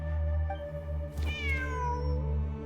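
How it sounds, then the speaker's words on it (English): A cat meows in a video game: one clear, drawn-out rising-and-falling meow mid-clip over a steady low background hum, with no voices. "Layla and Jur both heard the sound of a cat."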